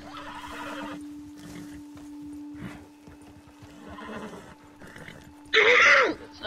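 A horse in Red Dead Redemption 2 lets out a loud, close whinny near the end, after steady soft hoof clip-clop and muffled movement, with a low constant hum underneath.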